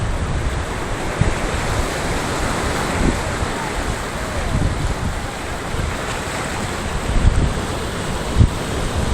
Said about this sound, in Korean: 파도가 또 밀려옵니다.